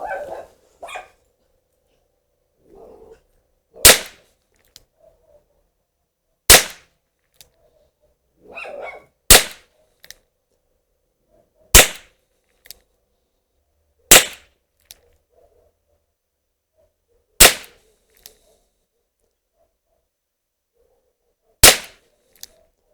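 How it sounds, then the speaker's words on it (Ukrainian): Sharp, loud revolver gunshots from a Taurus 409 fired single-action ring out one at a time at slow, uneven intervals, about eight in all, with quiet pauses between. "Таурус 409 стріляю з попереднім зведенням."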